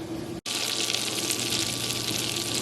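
Warm water runs from a kitchen tap into a Magic Bullet container, a brief pause then a steady, loud gushing splash that fills the rest of the moment without speech.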